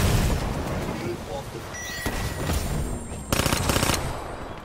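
Automatic weapon fire in the multiplayer video game Call of Duty: Black Ops 3 rattles in bursts, with a heavier, louder volley near the end, over a steady game soundscape.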